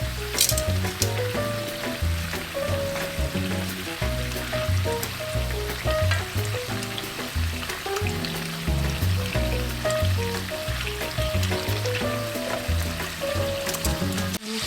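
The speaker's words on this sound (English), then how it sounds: "You might think I'm weird that I am boiling my bacon with water" Bacon boiling with water in a pan while leftovers are reheated, a continuous loud sizzle and bubbling with occasional sputters, close and steady throughout, no talking.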